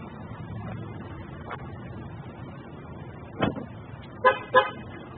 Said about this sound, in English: One push of the button lowers your lift gate.